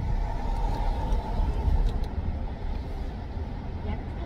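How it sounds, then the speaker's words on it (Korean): Road traffic rumbles in through a partly open window, a steady low wash of passing cars and engine noise, close and continuous, with a faint voice at moments. "차 소리들이 꽤 많이 들어오죠"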